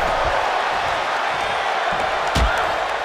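Arena crowd at a WWE 2K23 wrestling match roars as a steady, loud wash of cheering, with a few thuds and a sharper impact near the end.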